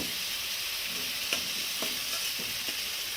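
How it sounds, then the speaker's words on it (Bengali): Potatoes fry in a spice masala with oil, a constant dense sizzle close by, punctuated by a few soft ladle taps and scrapes. "আমি আলুটা ভাজি আলুটা দিয়ে দিই"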